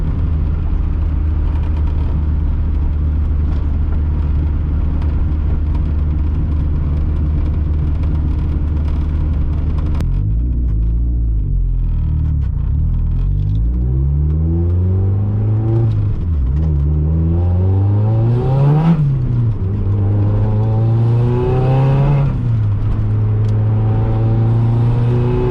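A turbocharged 1.6-litre Mazda Miata making about 250 hp drones loudly and steadily from inside the car while driving, its pitch rising and falling repeatedly through several revving sweeps and gear changes in the second half.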